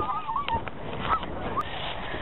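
Ducks on a pond give several short honking quacks, moderately close, over a steady outdoor background.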